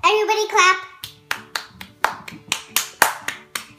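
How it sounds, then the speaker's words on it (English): Children clap their hands in a loose, steady rhythm of about a dozen sharp claps, close and clear, following a brief burst of child speech at the start. "Everybody clap."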